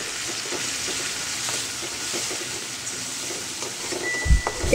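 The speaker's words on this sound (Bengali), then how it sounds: "সরিষা বাটা আর পেঁয়াজ বাটা দিয়েও এভাবে ভালো করে ভেজে নেব।" Onion paste and mustard paste fry in a pan with a loud, continuous sizzle and hiss. A few clatters of stirring come near the end. No one talks.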